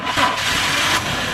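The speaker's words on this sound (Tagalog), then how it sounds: "may maingay dito sa makina" Close, loud running engine of a Toyota Revo with a noisy belt, giving a steady hissing, slapping mechanical clatter under a constant engine drone.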